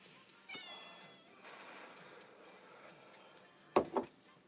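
A house cat meows several times indoors at night, drawn-out, quiet-to-moderate calls from nearby, followed by a couple of brief louder knocks or rustles near the end.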